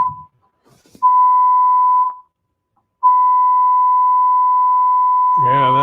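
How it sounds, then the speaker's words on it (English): Loud, piercing electronic tones ring out, one short steady beep followed after a pause by a longer sustained one, and a voice starts speaking at the end. "It's very loud beeping."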